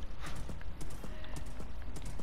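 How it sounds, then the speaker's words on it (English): Rapid clip-clop of skeleton horse hooves in Minecraft, a quick irregular run of sharp hoof clicks at moderate volume, with a faint whinny and a voice murmuring briefly underneath. "Get on one of these skeleton horses."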